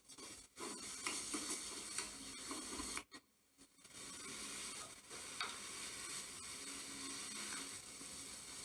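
A spoon stirs a mashed tomato and onion mixture with coriander leaves in a pan, scraping and sizzling steadily up close with a brief pause midway, no voices.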